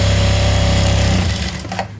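A sewing machine stitches fabric with a close, loud, steady mechanical whir and rapid needle rhythm, then winds down and stops after about a second and a half.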